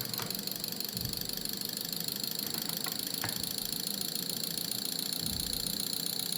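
The 1.7 diesel engine of a Mahindra Max pickup idles at low RPM, a steady close drone with faint rhythmic knocking and occasional low thumps.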